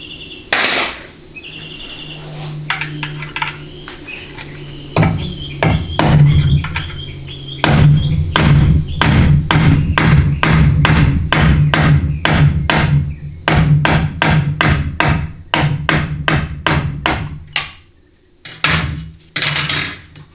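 Hammer blows drive a roll punch against a roll pin during a Ford 6R80 automatic transmission teardown: loud, close metallic strikes, sparse at first, then a fast steady series of ringing hits, ending with a few final taps.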